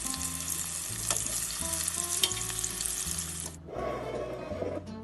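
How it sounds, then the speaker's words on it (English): Meatballs browning in a frying pan for a Sunday sauce, a loud continuous sizzle and crackle with a few soft scrapes, close up, easing briefly before the frying resumes. "I'm going to brown these meatballs on all sides, just like we did the other meat."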